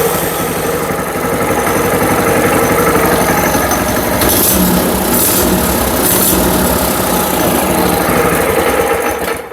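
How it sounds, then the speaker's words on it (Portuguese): A homemade tricycle's 212cc engine runs steadily after starting, a loud, continuous buzzing drone close by that holds level for several seconds before cutting off at the end. "É só bater a chavinha e ligar, parecendo um tratorzinho mesmo de verdade"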